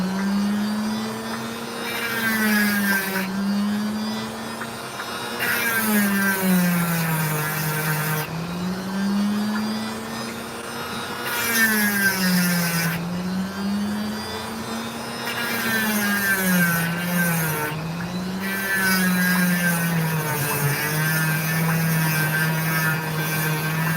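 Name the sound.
Dremel rotary tool cutting opal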